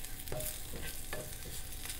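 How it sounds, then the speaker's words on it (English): Red chili powder and coriander powder sautéing in a pan, a faint soft sizzle with a few light scraping stirs, no voices. "a quarter spoon of coriander powder. Let's saute all that."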